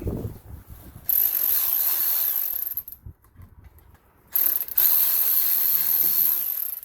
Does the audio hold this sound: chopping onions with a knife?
no